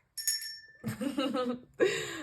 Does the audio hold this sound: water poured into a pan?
no